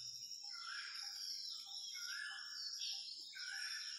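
Outdoor birdsong floats over a quiet background, with soft chirps and warbling phrases repeating on and off, faint and somewhat distant, and no talking.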